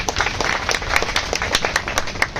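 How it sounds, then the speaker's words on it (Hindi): A crowd at a meeting on a state public service commission dispute claps together, loud and close, a brisk continuous patter of many hands with some sharper individual claps. "ताली बहुत कमजोर है भाई।"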